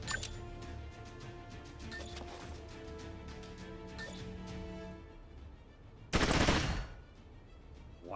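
Gunfire in the turn-based tactics game Troubleshooter: Abandoned Children, with a loud, dense burst of shots near the end following a stretch of game music and effects.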